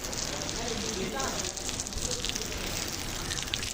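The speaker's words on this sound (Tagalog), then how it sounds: "Umuulan sa Saudi." Rain falling in Saudi Arabia makes a steady, dense hiss of drops spattering on surfaces, close and moderately loud, holding even throughout.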